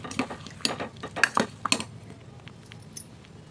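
A spoon scraping and knocking against a pot while a flour and lentil dough mixture for crispy pappu rotte is stirred, heard as several sharp, close metallic clatters in a quick run before it fades to quiet.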